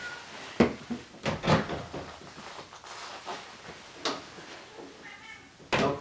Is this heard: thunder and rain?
no